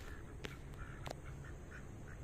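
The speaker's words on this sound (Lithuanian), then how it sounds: "Ne antis, o žąsis." A goose calling in a city park by a lake in Sri Lanka, with a few short honking calls spread through a steady outdoor background hum.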